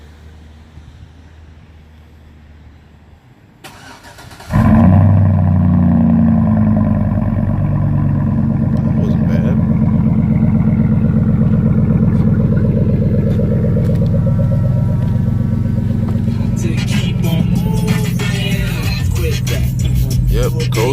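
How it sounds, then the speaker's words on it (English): A 2004 Chevrolet Suburban with a Dynamax bullet muffler cold-starts after sitting overnight: a sharp crank burst, then a loud, steady deep exhaust rumble that holds near the microphone, with a brief spoken remark over it. "I'll give you guys a cold start of the Dynamax bullet muffler."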